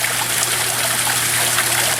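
A waterfall splashing off rocks, a loud steady hiss and rush of falling water with no pauses or voices.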